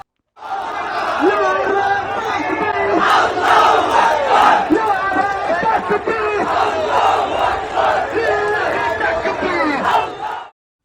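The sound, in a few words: protest march crowd chanting slogans, Dhaka University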